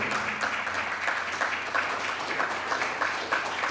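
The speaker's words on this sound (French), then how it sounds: "Commencez à applaudir" Fairly faint audience applause at a prize ceremony for a jingle contest, with uneven waves of clapping over a low steady hum and no talking.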